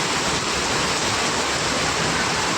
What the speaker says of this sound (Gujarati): 6 કલાક સતત વરસાદ પડ્યો છે મિત્રો